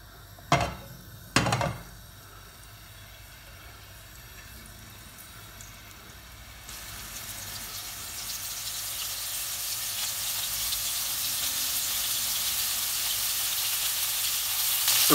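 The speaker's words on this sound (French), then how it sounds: "ce que je veux, moi, c'est juste faire dorer un peu les boulettes" Meatballs dropped into hot oil to brown for a kefta tagine: a couple of sharp knocks as they go in, then a steady, close sizzle that swells and grows louder over the rest of the stretch, with no voices.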